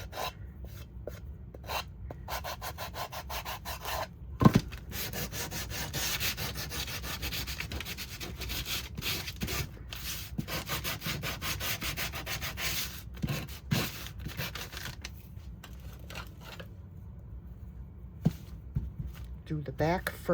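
Painted wood furniture being sanded by hand to distress it, a close, steady rasping rub in repeated strokes with brief pauses, and a voice speaking now and then over the scraping.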